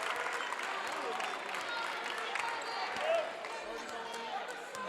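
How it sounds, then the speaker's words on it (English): A crowd at a girls' high school basketball game between Marshall County (KY) and Anna-Jonesboro (IL) cheers and claps in a gym, a steady roar from the stands with shoe squeaks and a commentator talking over it. "Crowd getting into this for Marshall County here."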